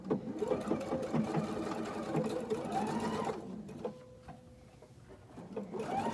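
Sewing machine stitching a half-inch seam on an outdoor cushion cover with a piping foot, running steadily in close bursts for about four seconds, pausing briefly, then starting up again.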